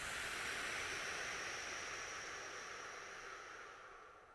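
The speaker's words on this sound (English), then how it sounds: "Exhale, out through the lips." A slow, steady exhale out through the lips during qi gong breathing, heard as a broad, soft airy rush close up that fades gradually toward the end.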